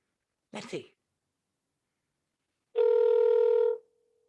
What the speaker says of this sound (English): Cousin Levi, answer the phone